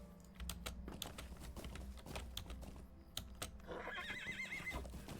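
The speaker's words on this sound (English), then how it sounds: "What is up with you, noisy horse?" A horse in Lord of the Rings Online gives a quavering whinny near the end, over steady game ambience with quick tapping of computer keys throughout.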